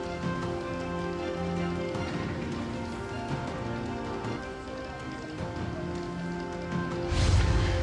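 Heavy rain from Cyclone Michaung pours down steadily in Andhra Pradesh, a dense, even hiss of drops striking surfaces, with a louder gust or splash near the end.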